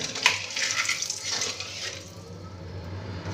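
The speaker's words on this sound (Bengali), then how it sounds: "কড়াইতে তেল দিয়ে দিয়েছি একটু হলুদের গুঁড়ো আর একটু নুন দিয়ে আমি ডিমগুলোকে এবার ভেজে নেব" Duck eggs frying in hot oil seasoned with turmeric and salt in a wok, a steady close sizzle with light scraping and stirring, fading slightly toward the end.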